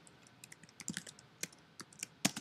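A gnuplot command being typed on a computer keyboard, a quick irregular string of close, light key clicks with a sharper tap near the end, alone without speech.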